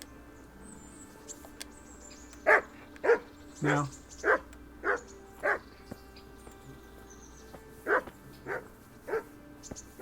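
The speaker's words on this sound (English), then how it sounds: "It's a dog." A dog barks about nine times in an uneven series, fairly close, over a quiet ambient background with a low hum, in the game Kingdom Come: Deliverance.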